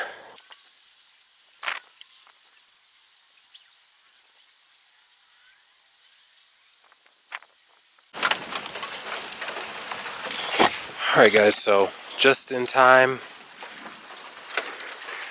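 Hail pelting down outdoors during a sudden storm while a car's oil is being changed, a dense hissing roar that bursts in partway through and keeps up loudly, with people talking over it.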